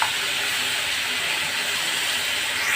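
Soy sauce hits hot chicken jalfrezi in the pan, producing a loud, continuous sizzling hiss that stays steady throughout the short moment.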